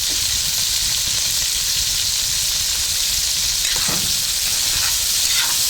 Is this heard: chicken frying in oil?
yes